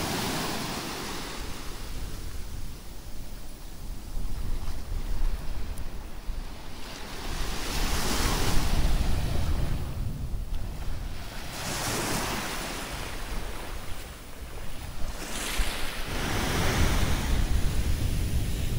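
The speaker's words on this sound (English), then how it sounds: "The next minute, there's loads of wind and the um, canopies are all blown all over the place" Wind gusting along the seafront at Santa Ponsa, Mallorca, a loud broadband roar and microphone buffeting that swells and eases over the whole stretch, with surf washing in underneath and no speech.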